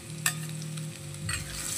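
Carrot and potato pieces stir-fry in a pan, oil sizzling steadily with a few scraping stirs of the spatula, close and continuous with no talk.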